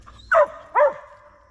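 A dog on the Appalachian Trail gives two sharp, close barks about half a second apart, loud against a quiet outdoor background.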